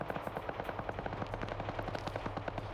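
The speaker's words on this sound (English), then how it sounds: "Land Rover starts mag dumping this tower" A Land Rover's mounted machine gun in a video game fires a rapid, evenly spaced stream of shots that holds steady throughout, loud and sustained with no voices.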